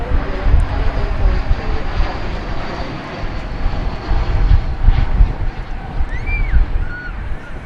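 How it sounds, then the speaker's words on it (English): Airbus A321 airliner of American Airlines arriving at DFW Airport, a steady broad jet roar that swells and eases over the whole span, heard at a distance outdoors with no talk. "bring you the arrival of American Flight 2216 from Portland, Oregon. It's an Airbus A321."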